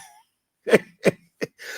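Three short, sharp sneezes in quick succession, close by, with silence between them.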